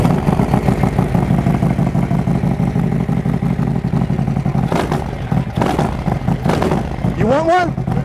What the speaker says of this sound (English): I'm gonna just twist the throttle a little bit